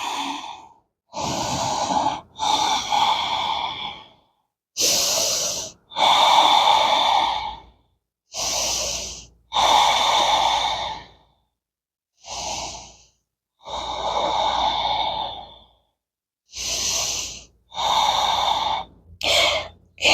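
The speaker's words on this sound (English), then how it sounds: "We'll take a few deep breaths here." Deep, slow breaths during a power yoga flow, about a dozen long inhales and exhales with brief silences between them, close and loud, with no talking.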